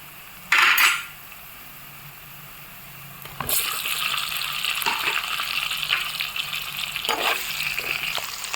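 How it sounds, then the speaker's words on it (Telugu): Boiled potatoes tumble into a hot pan of oil for a potato fry, a short clatter followed by a steady loud sizzle and stirring scrapes that carry on to the end, with no talk. "ఇప్పుడు బంగాళదుంపలు వేద్దాం"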